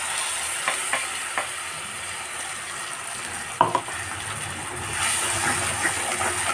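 Onions and ground spice paste fry in a pan for a fig curry, giving a continuous close sizzle with a few light stirring clinks, swelling slightly louder toward the end.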